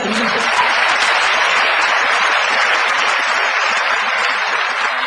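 A lecture hall audience at Chungnam National University breaks into loud, sustained applause, a dense, even wash of clapping that holds steady for about five seconds.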